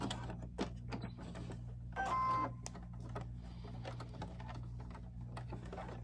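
A home sewing machine stitches knit T-shirt fabric for an 18-inch doll shirt in a quiet room, giving short bursts of mechanical whirring and clicking with a brief louder run, under a low steady hum.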